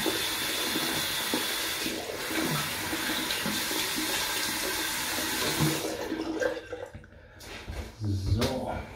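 Tap water pouring steadily into a bathroom sink for washing the face, a continuous close rushing that breaks off near the end into a few splashes and drips.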